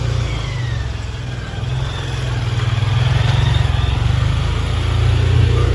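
A motorbike engine in a narrow Old Dhaka market alley, a steady close drone with a gradually rising rumble as it approaches from behind, heard alone without talk.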